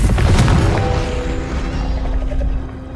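A fire spell blast in a video game, a loud booming whoosh with crackling mechanical debris that rings out and slowly fades.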